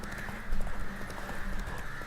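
Horse hooves clip-clopping in The Witcher 3, a steady rhythmic trot of hoof beats over a constant dense ambient hiss and low rumble, fairly close and moderately loud.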